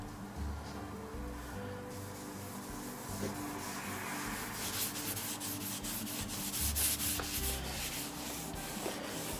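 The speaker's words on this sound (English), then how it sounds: "we're now going to coat it with some stained wax" Stained wax rubbed by hand onto sanded wooden panels of an old Allwin penny slot machine, a continuous scrubbing and rubbing sound, close and steady throughout with no talking.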